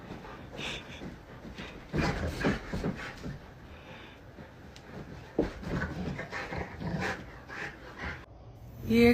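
A dog pants and lets out short barks and whimpers in bursts over busy background noise, fairly close and moderately loud, with occasional human exclamations mixed in.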